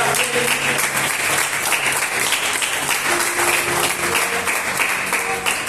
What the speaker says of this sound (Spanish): ¿Cuántos pueden dar un fuerte aplauso a esta palabra?